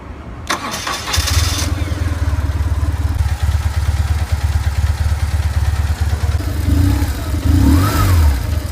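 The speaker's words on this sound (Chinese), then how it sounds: "谢大家听一下排气声浪" A BMW R1200GS motorcycle with an air-and-oil-cooled 1170cc opposed twin starts up and idles with a steady, loud exhaust rumble, then revs up near the end.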